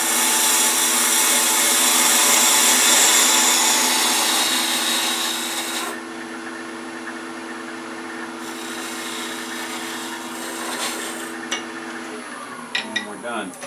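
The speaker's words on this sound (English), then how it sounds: "I use my 3/8 inch parting tool." A 3/8 inch parting tool cuts a tenon into a wooden garlic keeper box blank spinning on a lathe, giving a loud, steady scraping hiss that fades as the lathe winds down, followed by a few light knocks.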